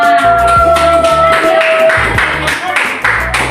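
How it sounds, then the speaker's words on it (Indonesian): Classmates in a microteaching classroom clap together in a short burst of several quick, rhythmic claps, close and loud, with voices talking over and around them. "beri tepuk tangan untuk pertama"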